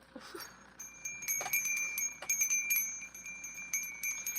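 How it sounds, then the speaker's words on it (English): Small bells ring repeatedly in quick, uneven strikes, their bright tones lingering and overlapping, fairly faint and close. "I'm going to ring some bells. I feel like I need to ring some bells here."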